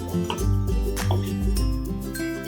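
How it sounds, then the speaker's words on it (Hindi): A glass of water is poured into a pot of cooking turai vegetable with spices, giving continuous close gurgling, plopping and sloshing that pulses in waves throughout. "अब हम इसमें 1 गिलास पानी का डालेंगे, अच्छी तरह मिक्स कर लेंगे।"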